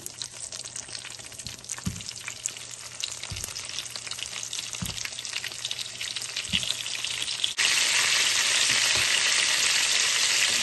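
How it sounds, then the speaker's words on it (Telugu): Stuffed eggplants frying in hot oil with cumin and dried red chillies for an eggplant cilantro karam, a continuous close sizzle with a few soft knocks, swelling into a louder, brighter hiss in the last few seconds. "ఆయిల్ వేడి వచ్చింది. ఇప్పుడు మనం స్టఫ్ చేసుకున్న వంకాయల్ని ఇందులో వేసేసుకొని"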